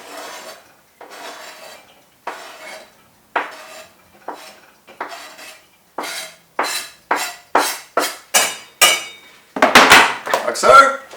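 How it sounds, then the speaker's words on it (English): Utensil scraping cheese into a pan of cooked rice, a series of scrapes and metallic clinks growing louder and faster toward the end, close up with no talk. "Now we just scrape the cheese into the pan."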